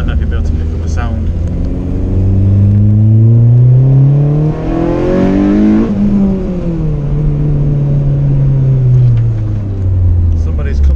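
A K-swapped Honda Civic EG engine revs up in a rising, droning roar that peaks loud and close, then eases back down as the car drives through a car park.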